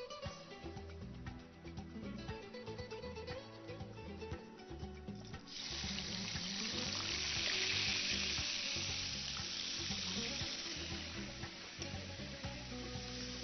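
French-style calf liver sizzles steadily in hot fat in a pan, with busy frying crackle that swells louder midway as the pieces are stirred and turned, continuous and close.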